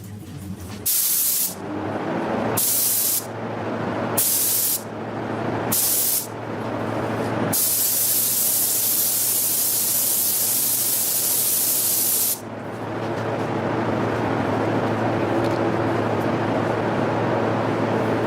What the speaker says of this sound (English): We're going to spray edges and then the top.